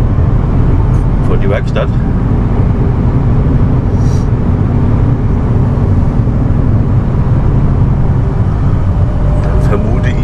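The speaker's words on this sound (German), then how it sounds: "Hab noch den KMC geladen, den fahre ich jetzt rüber in den Hof" A KMC vehicle is driven over into a yard, its steady engine and rolling rumble filling the whole stretch at close range, with a person speaking briefly over it.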